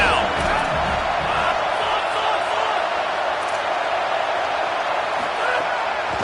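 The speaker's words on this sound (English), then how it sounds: "Decibels rising as the crowd gets behind this defense on 3rd down." A football stadium crowd roars steadily and loudly as a defense lines up on third down, a dense, continuous wall of cheering with no break.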